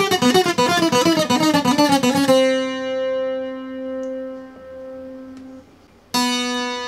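A fast requinto guitar passage from a song rattles off quick plucked notes, then stops on a long ringing note that slowly fades before one more bright note is struck. The playing is close and has no talk over it.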